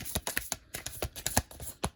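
Tarot cards shuffled by hand in quick bursts of crisp riffling and slapping, about a dozen sharp flicks over two seconds, close and fairly quiet with no talking.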